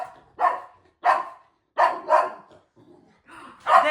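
Dog barking at a television indoors: five or six short, loud barks in an uneven rhythm, close by, with no talking.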